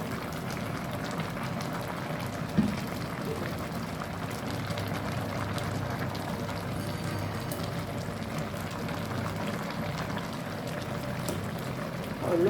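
Water poured off a pot of boiled honey pumpkin, a steady low liquid wash with a single brief clink near the start, continuous and fairly soft throughout.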